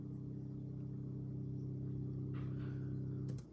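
A gritty synth bass line in an electronic music production drones steadily and loud, holding a thick sustained low tone that grows slightly more intense before cutting off near the end, with a brief glitchy burst layered on top.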